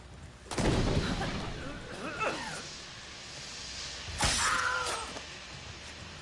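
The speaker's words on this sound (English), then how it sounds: "Another smoke bomb." Smoke bombs thrown in Assassin's Creed Shadows, two sharp bursting pops with a hissing rush of smoke, the first early and the second a few seconds later, amid game sound effects.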